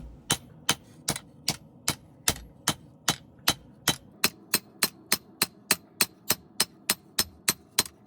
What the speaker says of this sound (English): I'm taking it to the anvil just to flatten it out and pretty much just planish this billet